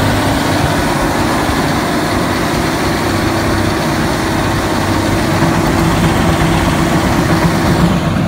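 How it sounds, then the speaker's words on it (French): A tractor engine works a sandy motocross track at Loon Plage, a steady, loud diesel drone holding an even pitch throughout with no voices. "Donc ils sont 2 tracteurs à tourner sur la piste."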